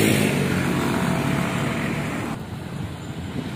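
A truck rolls past on an Indonesian road: a broad, loud roar of engine, tyres and wind rushing by that drops off abruptly partway through, leaving quieter road noise behind.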